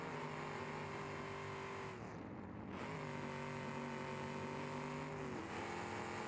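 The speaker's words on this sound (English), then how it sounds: "Definitely feathering the throttle, you can hear it." A race engine drones loudly and close as the throttle is feathered, its pitch dipping and recovering twice in smooth waves over a steady harmonic roar, with no speech.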